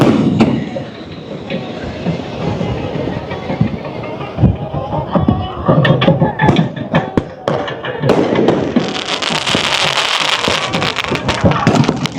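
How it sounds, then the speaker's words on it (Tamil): At a temple festival procession for the goddess on Nainativu island, fireworks crack and burst in sharp repeated pops over a loud, dense crowd and music din. "வான வேடிக்கைகள் நடந்து கொண்டிருக்கிறது"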